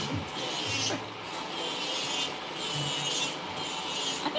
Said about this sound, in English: I hate when the vibration from the drill causes you to feel weird.